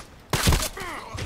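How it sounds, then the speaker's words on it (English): A mortar thrown in a shooter video game lands with a heavy thump and a brief burst of noise, then a shorter second impact follows a moment later amid faint game sounds. "Would like to throw this, the mortar now"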